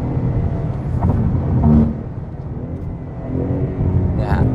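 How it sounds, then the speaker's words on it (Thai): A Ford Mustang with a 5.0-litre V8 gives a deep rumble and rising revs from inside the car, while someone talks over the engine throughout. "เสียงก็จะคำรามมากกว่าเสียงเครื่องยนต์ก็จะหนักข้อขึ้นนะครับ"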